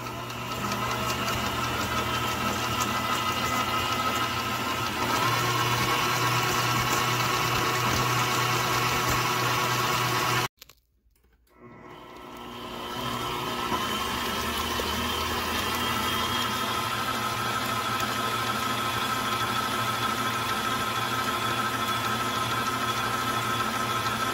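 An electric mixer creams cookie dough for giant oat, raisin, banana and chocolate chip cookies, a steady close motor whir running throughout, briefly cut off for about a second midway before spinning back up.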